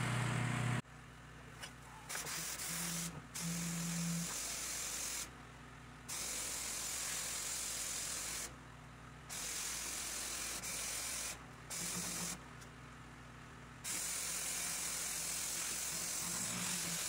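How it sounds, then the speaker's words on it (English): Degreaser is sprayed onto a kitchen range hood in repeated hissing bursts of several seconds each, close and steady, separated by short quiet pauses over a faint background hum. "Alright, so we got the whole thing sprayed"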